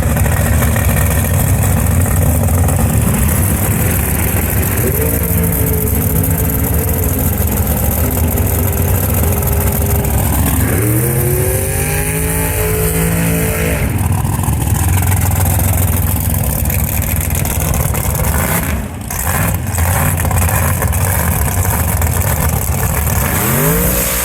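A blown, alcohol-fueled drag racing engine at a dragstrip rumbles loudly throughout, with sharp revving surges that rise and fall in pitch as it pulls to the line, near and dominant with no talking.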